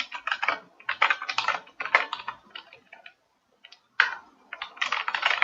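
Close, clear typing of code on a computer keyboard, quick clusters of key clicks separated by short pauses, with no other sound.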